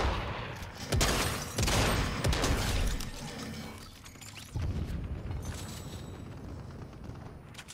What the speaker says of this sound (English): That tank is shooting.